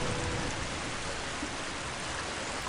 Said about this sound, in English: You can hear me over this waterfall.